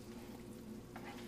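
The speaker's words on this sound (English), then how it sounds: "I like to use honey barbecue sauce or honey hickory, and I just add just a tiny bit, maybe a tablespoon or 2" A spoon works a spoonful or two of honey barbecue sauce into a pot of chili, a faint low simmering hum with one brief scraping stir near the end.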